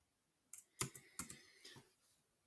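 A few quick keystrokes on a computer keyboard, close and quiet, clicking in a short irregular cluster against near silence.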